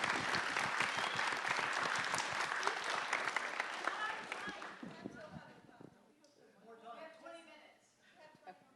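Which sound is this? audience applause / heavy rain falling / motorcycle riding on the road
audience applause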